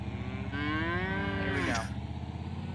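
Cattle in the video game Wobbly Life let out a drawn, rising-then-falling moo over a steady droning background, loud and close with no talk.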